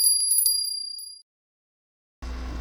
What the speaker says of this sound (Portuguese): aperta o sininho para receber todos os nossos vídeos novos